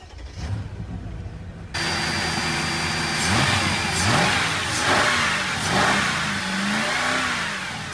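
A V8 car running on E85 ethanol cranks and fires after a short quiet stretch, then settles into a loud close idle with several rising revs and dips, its deep engine rumble filling the rest.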